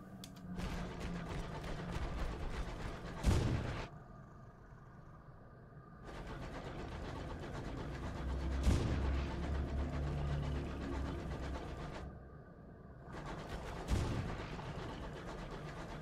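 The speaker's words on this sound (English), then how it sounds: "I can still hear the gunfire, even though we're fairly far away now." Distant gunfire from a battle in the video game Sunless Skies, thuds and crackling volleys coming and going in bursts over a droning engine-like background, faint and far off with no talk.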